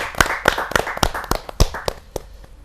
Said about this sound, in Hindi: हास्य कवि महेंद्र अजनबी जी का हम जोरदार ताली का स्वागत करते हैं।